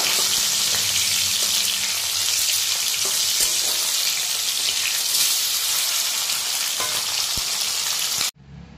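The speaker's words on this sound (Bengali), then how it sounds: "এইখানে দেখো সব মাছগুলো এখন ভাজতে দিয়ে দিয়েছি" Rohu fish pieces frying in hot oil, a loud, steady crackling sizzle with a few sharp pops and stirring clicks, cutting off abruptly near the end.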